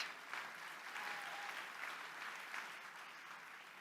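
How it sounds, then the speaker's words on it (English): A large conference audience claps during a political speech at CPAC 2021, a sustained, somewhat distant roll of applause that swells slightly midway and holds steady without speech over it. "How dare you guys clap at that?"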